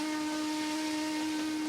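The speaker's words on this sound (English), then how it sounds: "as we come past with the steam engine again" Steady tonal whistle with a breathy hiss from a passing steam engine in Trainz Simulator World Tour on Xbox, held constant and fairly loud throughout.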